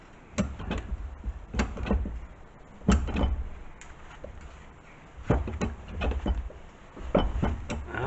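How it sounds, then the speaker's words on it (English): A hub on a Lancia Prisma HF Integrale is pressed free under a hydraulic press, giving a series of close, heavy clunks and knocks at irregular intervals, with quieter creaks between them. "you'll probably hear a bit of a clunk, and usually everything goes everywhere as the pressure is transferred"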